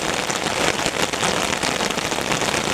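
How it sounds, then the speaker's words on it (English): Heavy rain pours down steadily in a dense, continuous hiss of drops hitting surfaces, with no voices. "Who would have thought it would still be raining this heavily?"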